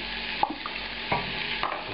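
Duck curry with pineapple being stirred in a hot pan, with a steady sizzle and a few distinct scrapes of the spoon against the metal at a close, moderate level.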